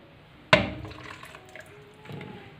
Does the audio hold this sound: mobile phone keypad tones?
no